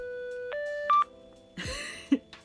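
Keypad button tones on a pink Motorola RAZR flip phone, a short run of distinct electronic beeps at varying pitches pressed one after another, clear and close in a quiet room.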